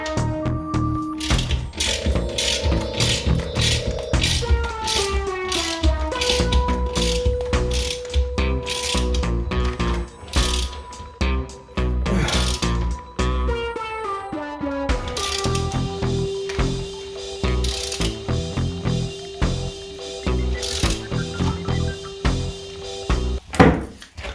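Pointed screws are driven in while a Nicoll Happy Support is fitted in a bathroom, producing long runs of close, rapid ratcheting clicks broken by short pauses, with no talking.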